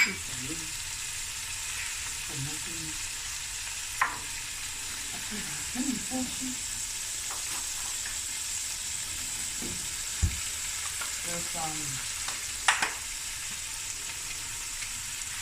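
Garlic sizzling gently in garlic and parsley butter in a pan, a soft continuous fry with occasional clicks and stirring scrapes, fairly quiet, with a voice speaking briefly at times.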